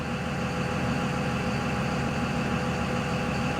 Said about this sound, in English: you can hear the big Dodge rattling out there